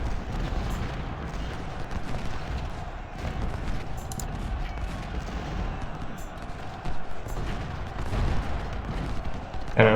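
Cannon and gunfire rumble steadily across a Civil War strategy video game battlefield, a dense continuous roar of distant booms and volleys without clear separate shots.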